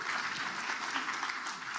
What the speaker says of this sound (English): Let's give a round of applause for Freddie